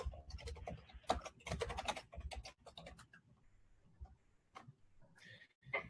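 Someone types quickly on a computer keyboard during an aerospace webinar, with close, crisp key clicks in bursts, dense at first and then sparser with pauses, and no talking.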